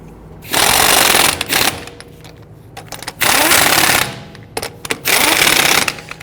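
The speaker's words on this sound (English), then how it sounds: "once we get them started, we'll go ahead and snug them down" On a 2010–2019 Ford Taurus wheel, lug nuts are run down with a power tool in three loud, close rattling bursts separated by short pauses with light clatter.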